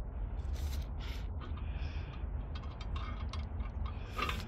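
A ratchet with a 3/4 deep socket tightens locking nuts on a chainsaw holder being mounted to a Kubota L2502 tractor, producing bursts of quick metallic clicking with short pauses between strokes.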